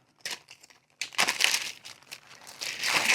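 A plastic bag crinkles close up as a 225cc Tillotson engine is unpacked: a short rustle, a pause, then a burst of dense crackling that keeps going in uneven handfuls.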